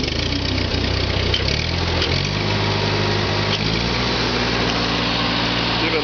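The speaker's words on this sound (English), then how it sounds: "I'm just going to start it up and let you see that it does run" A small portable generator runs at a steady, fairly loud idle with a buzzing high-pitched drone, and its pitch shifts a few times as the speed changes.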